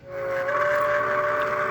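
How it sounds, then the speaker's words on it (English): A model train sound module plays a steam locomotive whistle: one steady, sustained, fairly loud tone that holds for under two seconds, clean and unaccompanied. "I really like, right, you got to have a steam whistle"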